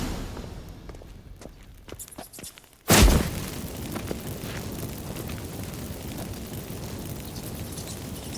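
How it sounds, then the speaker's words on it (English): Magic fireworks in The Witcher 3: Wild Hunt burst with a sudden loud boom after a few soft crackles, followed by a sustained crackling, rumbling hiss that fills the rest of the scene. "Get ready for some magic fireworks."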